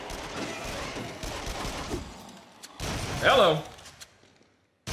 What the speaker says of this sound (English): I'm just gonna shoot you down.